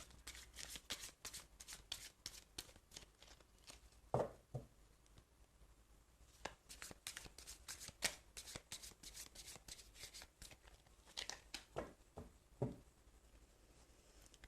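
Tarot cards shuffled by hand in bursts of crisp riffling and flicking, with brief pauses and a few louder taps as the deck is squared, close and fairly quiet with no talking.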